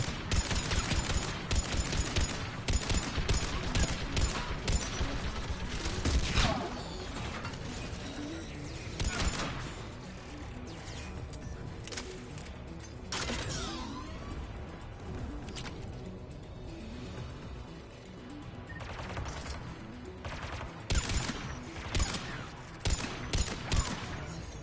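An automated gun turret fires in Mass Effect 3, producing repeated rattling bursts of rapid clattering shots across a steady, busy layer of combat noise.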